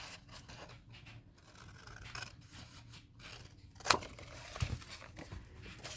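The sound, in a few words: cutting a craft piece for a wheel of fortune die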